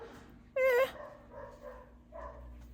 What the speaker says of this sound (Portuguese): é o meus cachorros